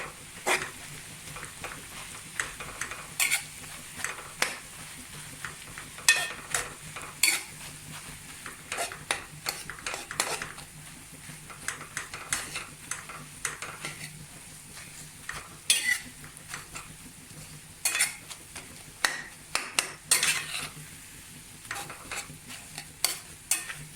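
Egg halwa is stirred and fried in a pan. A low sizzle runs throughout under frequent sharp clinks and scrapes of a spoon against the metal pan, close and busy for the whole stretch.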